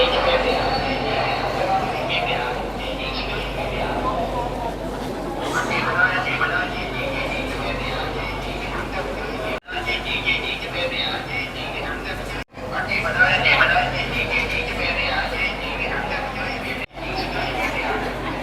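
A crowded Ho Chi Minh City metro train in motion: a steady rumbling rail drone with rattling carriage noise and passenger chatter, briefly cutting out a few times, while a person talks over it.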